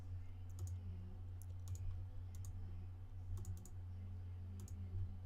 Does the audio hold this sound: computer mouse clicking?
yes